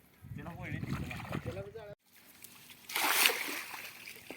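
A voice talks briefly, then after a short pause a broad, noisy splash sounds as a fishing net lands in the water nearby.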